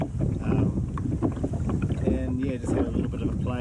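A Whaly boat's outboard motor runs over the water, a low rumbling drone mixed with gusty wind noise, and a voice briefly rises above it.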